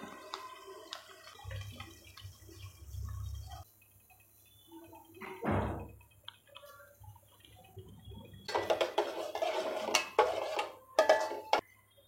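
Milk poured into a pot of drumstick (moringa) curry, heard as quiet clinks and knocks of the pot followed by a short, louder spell of splashing, trickling liquid.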